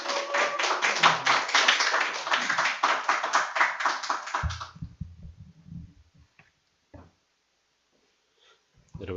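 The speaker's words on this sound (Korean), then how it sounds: "현우 교수님 나오실 때 우리 박수로 환영하겠습니다." A church congregation claps to welcome a professor, dense overlapping claps for about four and a half seconds before they stop abruptly, leaving a voice and a few scattered sounds afterward.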